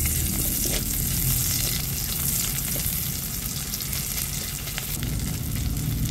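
Onions sauté in a pan for squid sotanghon with a dense, steady sizzle and crackle. Occasional light stirring clatters sound close by, and no one talks.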